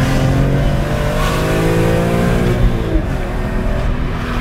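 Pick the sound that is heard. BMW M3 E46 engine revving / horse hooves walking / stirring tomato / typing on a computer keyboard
BMW M3 E46 engine revving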